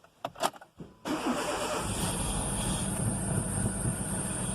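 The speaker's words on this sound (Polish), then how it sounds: "Jak zapewne słyszycie coś bardzo, bardzo brzydkie, wydaje odgłosy, świsty, gwizdy" A Renault Megane 1.6 16v engine cranks briefly, then catches and runs steadily, with a persistent high-pitched whistling squeal from the accessory belt over the rumbling idle.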